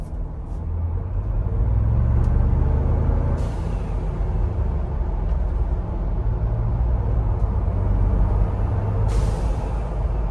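A 2021 Ford Bronco 2.7L engine rumbles loudly up close, with sharp hissing bursts of a blow-off valve venting to atmosphere at a few points between throttle pulls.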